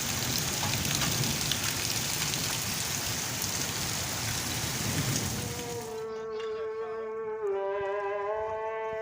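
Sudden heavy rain pouring down in a town, a dense, loud, steady hiss that cuts off after about six seconds into a low tonal hum.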